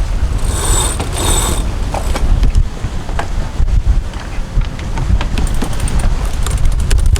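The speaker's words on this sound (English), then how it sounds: "We have 22 knots of wind right now" Strong 22-knot wind on a schooner under sail, a loud continuous roar and rush of wind over the microphone with creaking rigging and knocking underneath.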